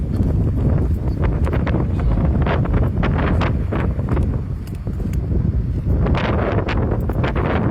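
Strong, gusty wind roars steadily across the microphone outdoors near a fire, loud and constant, with occasional crackles and rustling, and no clear talk.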